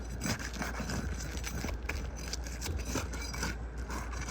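Continuous rough scraping and tearing through the back of a roof shingle, steady and close, with gritty rasping texture throughout and no voices.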